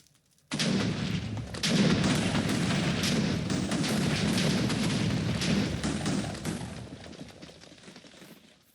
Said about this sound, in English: Lucky TNT picks a random TNT and explodes into it